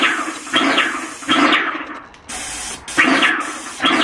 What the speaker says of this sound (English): at the minute it's just pushing water through